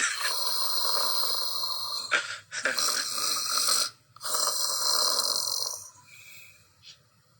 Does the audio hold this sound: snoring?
yes